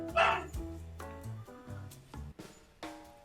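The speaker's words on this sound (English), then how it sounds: "You may be able to hear my puppy Leo that we saw earlier on the slides yelping in the background a little bit" A puppy yelps and whimpers in the background indoors, a string of short high cries and barks at moderate level, varying in pitch, with no talking.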